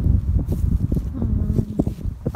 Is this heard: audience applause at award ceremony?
no